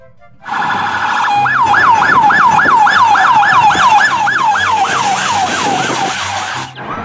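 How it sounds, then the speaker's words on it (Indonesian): A police car siren wails in a fast, regular up-and-down pattern, loud and close, sounding alone without talk for several seconds before cutting off abruptly. "Wah, kita mendapatkan mobil polisi lagi."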